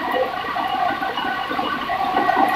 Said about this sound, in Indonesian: Nah ini kayaknya tambah deras, arusnya tambah deras.